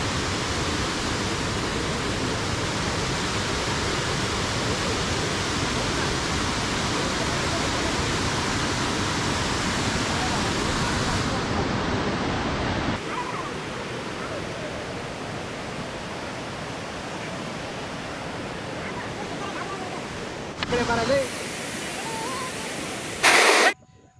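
Water crashes forcefully at Bandaji Falls, a loud, steady roar of falling water that fills the first half, then drops to a quieter rushing hiss with brief bumps near the end.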